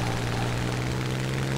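Propeller plane engine in the War Thunder flight game, a steady droning buzz with a strong low hum, continuous and loud with no variation over the short stretch.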